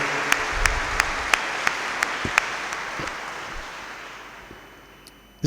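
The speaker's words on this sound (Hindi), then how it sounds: "तो आए हम अपने सब ख़ानदानों के लिए भी ज़ोरदार तालियां बजाकर खुदा का शुक्र अदा करें" Loud applause from a cathedral congregation at a Chrism Mass in Lahore, a broad clapping wash with a few sharp distinct claps that gradually fades out over several seconds in the reverberant space.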